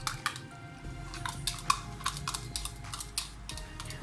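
A spoon clinks and taps rhythmically against a bowl while salt and black pepper are mixed for burger mince, a quick run of light close ticking strokes at low volume.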